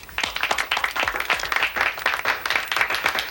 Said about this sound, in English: let's give a big round of applause to Bruce and his pepperoni.